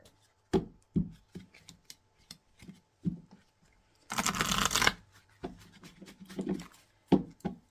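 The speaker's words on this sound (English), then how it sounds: "let's pull some more cards here" Tarot cards are handled and shuffled at close range: a series of soft taps and flicks, then a dense riffle lasting nearly a second, followed by more scattered taps and slides.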